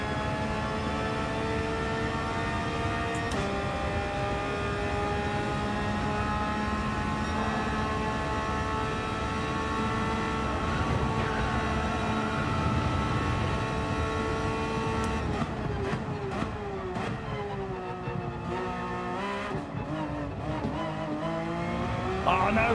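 Race car engine in Gran Turismo 7 revving hard, climbing in pitch and dropping sharply at gear shifts, steady and loud throughout with a short shift mid-run and more upshifts near the end.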